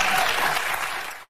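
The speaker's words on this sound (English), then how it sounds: "And the audience claps." An audience bursts into a short, loud round of clapping that fades slightly and then cuts off abruptly after about a second, with no voices heard.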